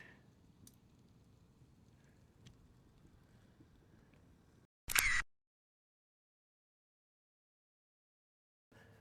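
Single sharp click of a camera shutter fired by a PIXEL TW283 S2 intervalometer outdoors, a brief loud burst after quiet background hum, followed by near silence.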